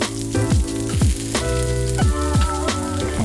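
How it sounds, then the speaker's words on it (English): Garlic and onion stir frying in hot oil in a large wok, a loud, steady close sizzle with repeated scraping strokes of a utensil across the pan, no voices. "All right, let's get stir frying."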